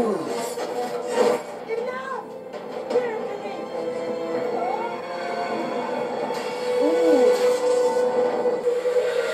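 A crowded railway station in India fills the scene, with a dense roar of rumbling trains, clanking metal and crowd noise, and a steady train hum rising slightly toward the end.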